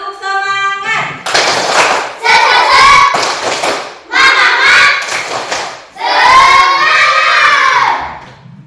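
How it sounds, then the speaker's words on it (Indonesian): Classroom of schoolchildren doing a rhythmic spirit clap during a maths lesson, loud bursts of clapping mixed with children chanting and shouting together in several phrases. "lagi tepuk semangat."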